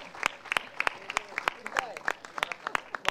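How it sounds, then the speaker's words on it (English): A small audience claps at a brand campaign launch event, sparse distinct hand claps in an uneven rhythm rather than a full ovation, with some talking underneath. "Please give her a round of applause"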